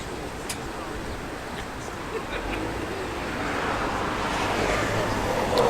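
A car approaches and pulls in, its engine and tire noise slowly growing louder over steady outdoor wind and road hiss.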